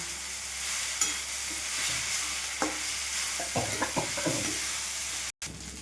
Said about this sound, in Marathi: आता परतून घेतलं का थोडी वाफ द्यायची बारीक गॅसवर. परत परतायचं.